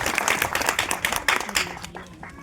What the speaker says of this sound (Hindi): तो जोरदार तालियां ईशा ठाकुर के लिए।